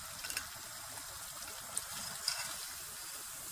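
Meat cooking liquid simmers down in a pot while making haleem, a steady low sizzle and bubbling with a few faint clinks, continuous and close, with no talking.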